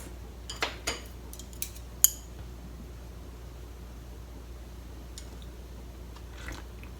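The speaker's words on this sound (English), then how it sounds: "It's time to eat." Someone eating kasu-jiru, a Japanese sake-lees soup, with cutlery in a quiet kitchen: a few soft clinks of utensil on bowl and quiet chewing, sparse and close.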